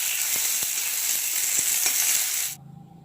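Mustard seeds, urad dal and curry leaves crackle and hiss loudly in hot oil for a chutney tempering, with a few sharp pops, before the sizzle suddenly cuts off near the end.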